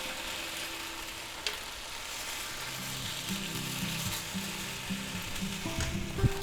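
Hot Italian sausages sizzle in a pan over medium-low heat after being flipped, a steady close crackling hiss with faint clicking and scraping underneath, no voices.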